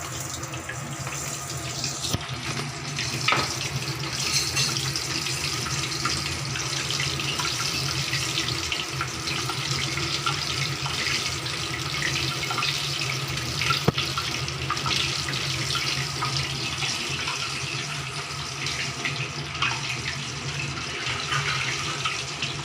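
Onion cheese rings deep frying in hot oil, a steady dense sizzle and crackle running throughout with no talk.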